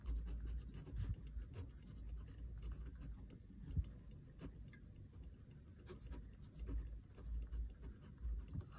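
Pen on paper while a free body diagram is drawn by hand: steady, soft scratching and rubbing strokes, close and quiet, continuous over a low background hum, with no talk.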